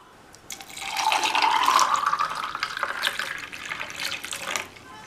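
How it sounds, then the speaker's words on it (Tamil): Cucumber juice is poured into a glass of ice in one steady stream whose tone rises as the glass fills, close and clear, before the pour tapers off. "ஜூஸை கிளாஸில் ஊற்றிடலாம்"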